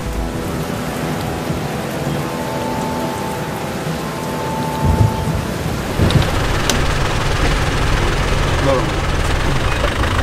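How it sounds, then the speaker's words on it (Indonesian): Heavy rain pours steadily throughout, a dense hiss with a low rumble underneath and a few sharper bursts midway. "Lagi hujan deras."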